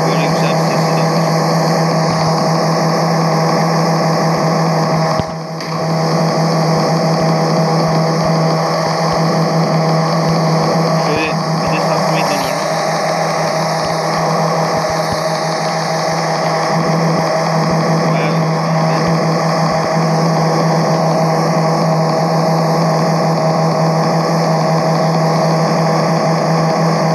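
A steady, droning engine hum from a Ferrari sports car in a Minecraft Pocket Edition mod, holding one even pitch throughout as the car drives, with a voice talking over it.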